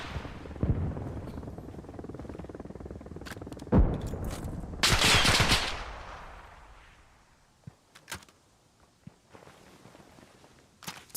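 Bursts of machine gun fire crack out in the Arma Reforger video game, loud volleys in the first half, then scattered, fainter shots and footsteps.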